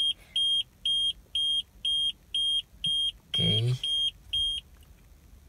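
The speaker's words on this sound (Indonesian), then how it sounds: "Jadi yang tadi bunyi itu TPMS gua." Low-tire warning from a car's tire pressure monitoring system, a series of about nine evenly spaced high electronic beeps, close and clear, with a brief spoken word and a rustle partway through.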